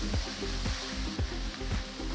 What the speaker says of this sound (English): Once the onions have become translucent, add 2 tomatoes chopped and mix well.